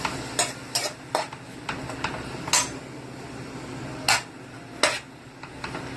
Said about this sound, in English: I'm just going to go ahead and stir that up